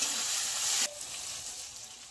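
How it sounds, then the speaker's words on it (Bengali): Chopped tomato frying in hot oil with black cumin seed in a pan, a loud bright sizzle that cuts down abruptly after about a second to a softer, steady crackle. "টমেটো কুচি, টমেটোটা একটু ভেজে নেবো"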